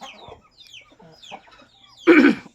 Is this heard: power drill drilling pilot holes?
no